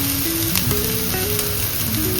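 Ingredients dropped into hot oil while cooking a roasted-coconut Kerala chicken curry give off a loud, continuous sizzle, a steady bright hiss with a soft melodic tune underneath.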